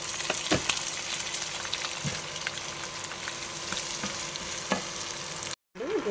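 Grated coconut goes into a hot frying pan for a fish curry with tapioca tuber, giving a steady, close sizzle with occasional spoon scrapes and stirring clicks; no one speaks.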